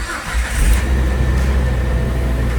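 A Jeep engine cranks and catches after its computer was replaced, settling into a loud, steady idle with a low rumble that carries on to the end, no voices over it.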